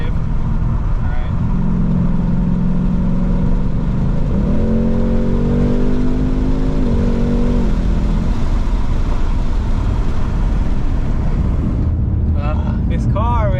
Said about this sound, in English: something about a V8, man, it sounds so good